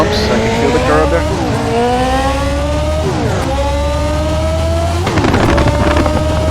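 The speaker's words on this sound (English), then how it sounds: "Wow, that engine sounds pretty smooth." A 1991 Fondmetal Formula 1 car engine in Assetto Corsa, revving hard and loud with rising pitch through repeated gear upshifts and brief shift dips, continuous and close throughout.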